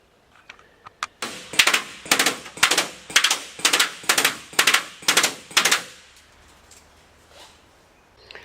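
An M59 airsoft gun from a field build firing about nine sharp, evenly spaced shots at the sides of a target, loud and close, with a couple of lighter clicks before the first shot and quiet afterward.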